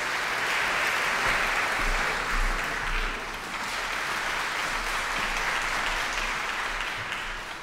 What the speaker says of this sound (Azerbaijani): Alqışlarla qarşılayaq.